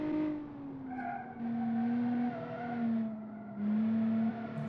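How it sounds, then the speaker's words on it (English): A French car in a racing video game drifts and power slides, its engine droning steadily with a sustained tire skid squeal rising and falling across the slide, close and loud with no talk. "It can drift. It can power slide."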